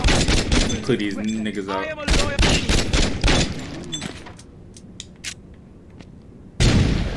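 Rapid bursts of gunfire in Saints Row 2, loud sharp shots clustered over the first few seconds with a voice talking over them, then a quieter stretch of scattered pops and a final loud burst at the end.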